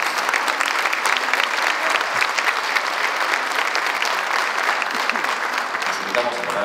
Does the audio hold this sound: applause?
yes